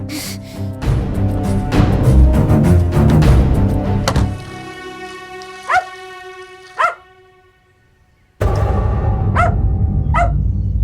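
A dog barks in a Telugu film scene: a couple of sharp yelps stand out over a loud music bed, which drops away briefly before returning.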